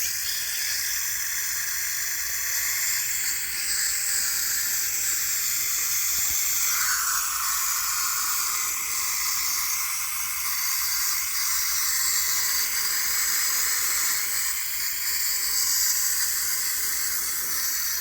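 A garden hose sprays water over vegetable garden plants on a mini-farm to soak the compost-mixed soil, a continuous even hiss at close range that shifts slightly in tone as the stream moves.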